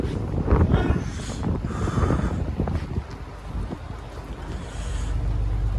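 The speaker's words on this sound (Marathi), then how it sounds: "किती भयानक तुफान आलेला आहे आमच्याकडे, लाटा बघा फक्त, लाटा बघा" Storm wind roars and waves surge at sea aboard a merchant navy ship, a loud continuous rush and buffeting with swells rising and falling throughout, no talk.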